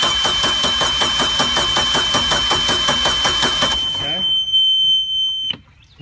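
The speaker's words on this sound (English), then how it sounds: "I am going to turn the blower on just for poops and giggles, just for a few minutes" A Bayliner 175 boat's blower fan runs with the key turned: a steady tonal whine with rapid pulsing buzz for about four seconds, then it cuts out, leaving a thin lingering tone and a brief click.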